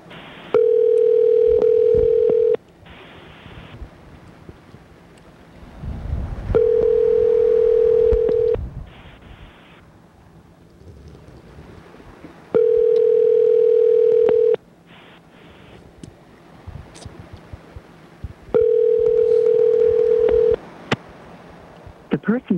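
Telephone line tone while placing a call, sounding as four steady loud pulses of a couple of seconds each, separated by gaps, with faint background noise between them.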